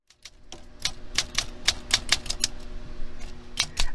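Rapid irregular mechanical clacks of a typewriter being worked on in a Quiapo repair shop, crisp close strikes in quick bursts with a few short pauses between them.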